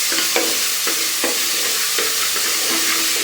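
Mango, banana and jackfruit pieces sautéing in a pan over medium flame for payasam, a loud continuous close sizzle with a few soft stirring scrapes at regular intervals.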